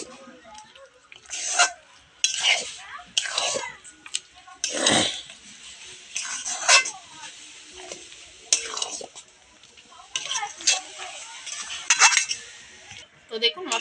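A spoon repeatedly scrapes and clinks against a pan while ground spice is stirred into a tangy jujube (topa kul) pickle. The strokes are irregular and close, with a faint sizzle and soft voices underneath.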